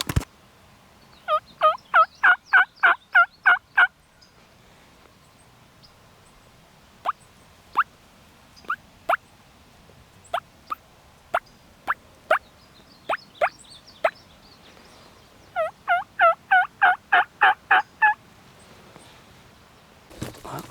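Wild turkey gobbling in open country during an Oklahoma Rio Grande hunt, two rapid rattling gobble bursts at the start and end with scattered sharp clucks and putts between, fairly close and clear over a quiet background.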